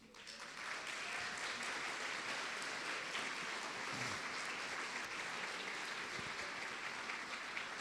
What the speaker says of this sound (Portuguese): Você vai ser recebida com uma salva de palmas